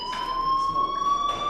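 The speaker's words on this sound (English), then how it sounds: "Hey, do you hear that fire alarm?" A fire alarm in the game Life Is Strange rings with a steady, piercing electronic tone. Faint rhythmic pulses run under it, and it continues without a break and without voices.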